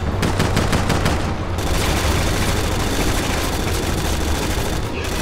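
Dense, continuous gunfire from a Resident Evil 6 firefight, rapid overlapping shots and bursts filling the whole stretch at steady high loudness, with no pause.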